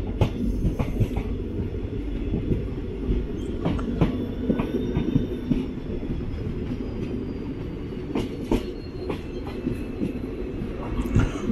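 A train hauled by a WAP-7 electric locomotive stands at a station with a steady low rumble and hum, with occasional clanks and faint squeals throughout and no talking.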